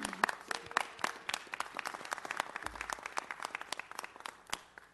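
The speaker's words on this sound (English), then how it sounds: "Let's give her another round of applause." Applause at a city council meeting in Los Angeles honoring a retiring city employee: scattered, fairly sparse hand clapping from a modest room audience, quiet and steady for several seconds.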